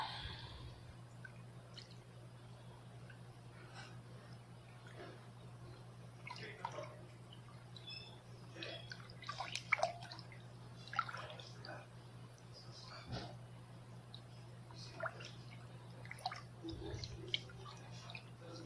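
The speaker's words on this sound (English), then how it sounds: "we are just going to stir this all together" Spoon stirring honey into homemade elderberry cough syrup: soft, scattered wet clicks and squishy sloshes, faint and close over a steady low hum.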